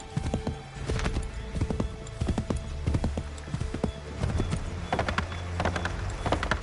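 Horse hooves clip-clop in a steady galloping rhythm in Assassin's Creed III, loud and close, with a faint whinny and a low background hum.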